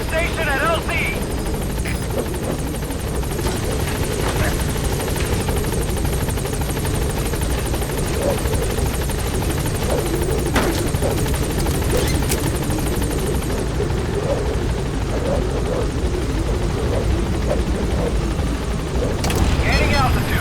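The Pequod helicopter in Metal Gear Solid V: The Phantom Pain holds at a landing zone, its rotor droning loud and steady throughout with no letup, a voice heard over the engine noise.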